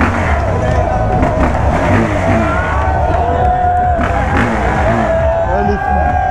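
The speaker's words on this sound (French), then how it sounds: "Je fais la roue arrière" A motorbike or car engine revs hard during a wheelie amid a dense street crowd celebrating on the Champs-Élysées after the 2018 World Cup final, with steady loud engine drone under cheering and babbling voices.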